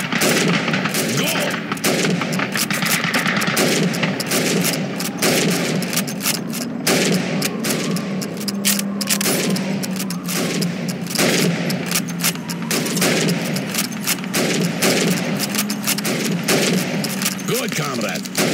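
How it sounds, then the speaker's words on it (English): Rifle shots fired at helmet targets during Red Army training in the Call of Duty 2 video game, rapid repeated gunfire cracks over constant battle noise, with voices talking in the background. "You have 15 seconds to shoot the helmets."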